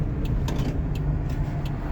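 A 1992 Toyota Corolla DX car on a test drive, its steady engine and road noise heard from inside the cabin as a continuous moderate drone with faint ticks and no voices.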